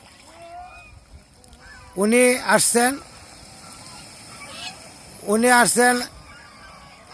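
Domestic geese honk on a goose farm in two loud, raucous bursts of several calls each, separated by a few seconds of quieter background, with someone talking nearby.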